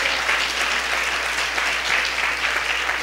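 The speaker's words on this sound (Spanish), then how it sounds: "Démosle un aplauso a Él." A church congregation claps together in sustained, dense applause, steady and loud throughout with no voices standing out.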